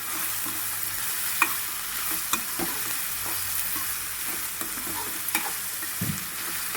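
Vada fritters sizzle and crackle steadily in hot oil in a pan for Andhra-style vada curry, a dense frying hiss with small pops and occasional stirring clicks, close and loud, no voices.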